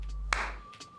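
One sharp hand clap, counting a single syllable in a children's home-learning lesson, sounds close and alone above a steady low hum.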